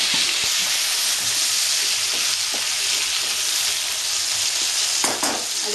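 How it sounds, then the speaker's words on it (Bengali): Potatoes frying in hot oil, a loud, dense, continuous sizzle close by with occasional stirring scrapes and no speech. "আলুটা একটু লাল লাল করে ভেজে নেব।"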